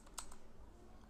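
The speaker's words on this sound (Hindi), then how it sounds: "और यहाँ हम टाइप कर लेते हैं" A few quick, soft keystrokes on a computer keyboard, faint and close, in a short burst with no talking.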